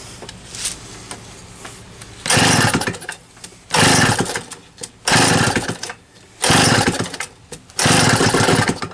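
A small engine fitted with a Tillotson HL-63A carburetor catches and runs in loud, rough bursts: about five surges of high-pitched buzzing roar, each a second or so long, separated by quieter sputtering gaps as it struggles while flooded.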